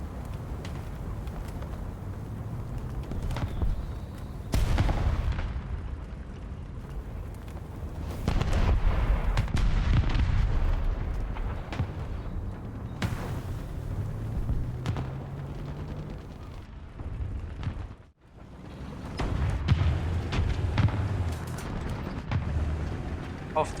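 Cannon fire and explosions from a Soviet T-35 tank in War Thunder, engaging enemy tanks contesting a hill; repeated loud booms and blasts in bursts, with rumbling battle noise throughout.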